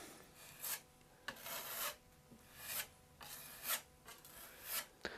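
Wood filler spread across a desk top with a putty knife, rasping and scraping in a steady back-and-forth rhythm of roughly one stroke per second, close and clear with no talking.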